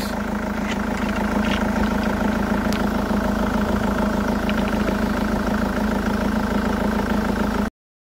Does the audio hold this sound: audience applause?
no